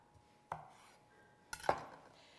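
A knife cuts baked potatoes in half on a board, giving two separate sharp knocks about a second apart, the second louder with a brief clatter, close by with no talking.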